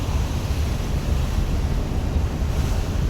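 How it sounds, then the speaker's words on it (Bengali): Aboard the Sundarban 12 river passenger launch near Chandpur: a steady, loud rush of wind and water over a deep, continuous engine rumble, with no break throughout. "এখন আছি সুন্দরবন 12 লঞ্চে"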